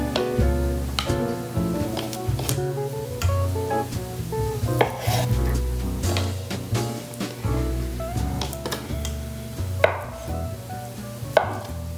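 A knife chops salad ingredients for a La Scala salad on a cutting board, a steady run of light taps and scrapes with a few sharper knocks, partly buried under loud background music.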